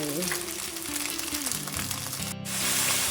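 Pepperoni frying in a pan, a loud, steady hiss and crackle that grows stronger toward the end, with a voice speaking over it at first.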